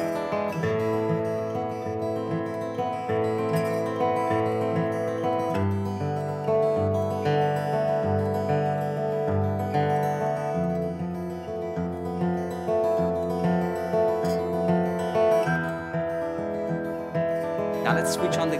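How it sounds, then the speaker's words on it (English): A LAVA ME Play smart guitar plays a continuous strummed and picked passage with rich chords and a low bass line, close and steady, with no talking. "Now, this is the sound of the Lava ME Play."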